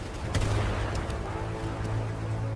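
Rapid, dense gunfire in the style of a World War I machine gun, a steady rattling barrage with a low rumble beneath, loud and continuous throughout with no voices.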